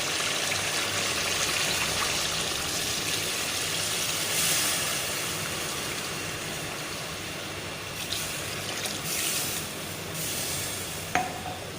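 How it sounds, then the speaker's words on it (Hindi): Water pours steadily into a pot of chicken pulao in a continuous rushing stream, close by, with a faint sizzle and a small clink near the end. "अब हम इसमें पानी ऐड करेंगे।"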